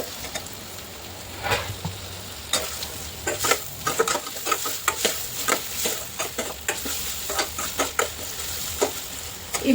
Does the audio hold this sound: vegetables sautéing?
yes